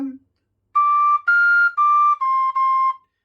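A breathy Thai khlui flute plays a short run of five sustained notes, clear and close, each note held before stepping to the next.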